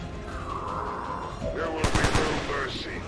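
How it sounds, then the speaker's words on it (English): A short burst of several quick gunshots from XCOM 2, rapid close cracks clustered near the middle over a low ambient game hum, with no talk during the shots. "I'll shoot at him."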